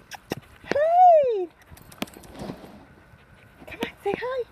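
Two playful dogs pant and whimper up close, with a drawn-out whining yelp and scuffling feet, while a person speaks to them in between.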